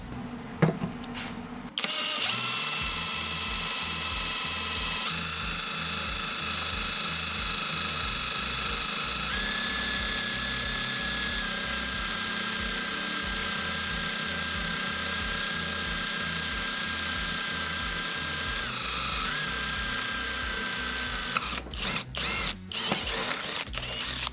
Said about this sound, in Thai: ทำการเจาะเหล็กฉากขนาด 3 มิล